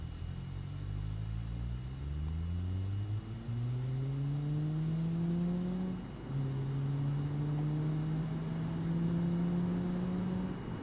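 The Emmandoire Poirot, a cheap medium-size French car in BeamNG, accelerates hard through successive gears, its engine tone rising and dropping at each shift, steady and close with no voices.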